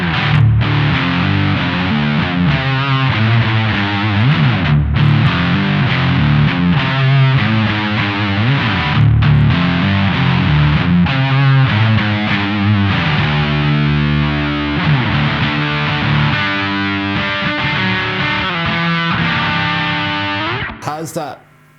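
Electric guitar played through a T-Rex Mudhoney distortion pedal, a loud, continuous stretch of thick, saturated chords and riffs with chuggy low end and clear note definition, ending with a quick cutoff.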